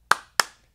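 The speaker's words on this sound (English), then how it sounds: "two claps" Two sharp hand claps about a quarter second apart, close and crisp, each ringing out briefly in an otherwise quiet room.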